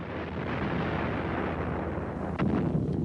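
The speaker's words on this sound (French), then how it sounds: "Comme tous les chars touchés directement, les munitions atteintes par les flammes explosèrent" Ammunition inside a hit tank exploding in flames, a deep continuous rumbling roar with crackling bursts, swelling with a sharper blast near the end.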